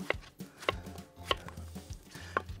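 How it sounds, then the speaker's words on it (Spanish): A knife chops cucumber on a cutting board in four crisp, evenly spaced strikes, close and alone, with quiet handling noise between them. "Cortamos el pepino."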